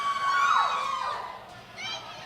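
A rock club crowd shouts and cheers between songs, a broad wash of voices with a high whistle sweeping through, moderately loud and fairly close.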